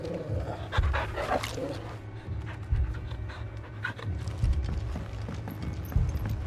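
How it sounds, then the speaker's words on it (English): Hostile mad dogs in Final Fantasy 16 snarl, pant and bark in a fight, with growling bursts rising over a steady, busy game soundscape. "Mad dogs."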